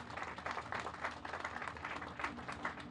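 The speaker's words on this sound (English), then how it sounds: "I would like to give you all a round of applause" Audience applause at a groundbreaking ceremony for an apartment building, a steady wash of many hands clapping at moderate distance, sustained without pause and no voices on top.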